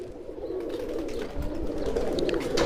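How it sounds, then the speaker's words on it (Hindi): Black Saharanpuri pigeons walking about on a rooftop keep up a continuous low cooing drone, with soft clicks and rustling mixed in throughout. "जितने कबूतर आपको ये दिख रहे हैं छत के ऊपर घूमते हुए, टहलते हुए"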